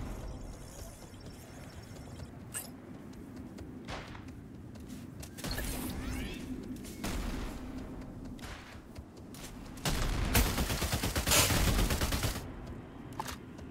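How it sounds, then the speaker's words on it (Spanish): Bursts of rapid video game gunfire come in clusters, some distant and some louder and closer, with brief clatter and mechanical noise between volleys. "Es que escuchaba mucho disparo"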